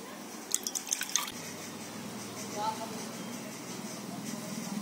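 Kewra water and rose water sprinkled over strained biryani rice: a quick run of light drips and splashes early on, then a soft background hiss, with faint talk nearby.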